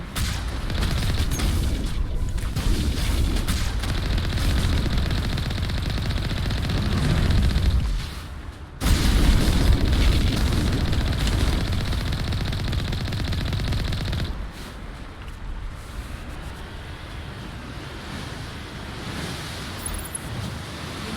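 Heavy artillery and gunfire rumble continuously through a battle in the video game Mass Effect Legendary Edition, loud and dense, cutting out sharply partway through before resuming at a slightly lower level.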